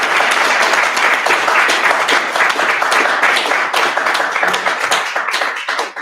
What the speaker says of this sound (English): So should we give our panel a round of applause?